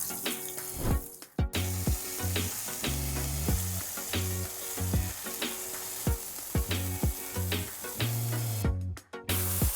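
Turkey meatballs sizzle and spit in olive oil in a skillet, a loud, steady frying crackle with occasional clinks and scrapes of a utensil against the pan.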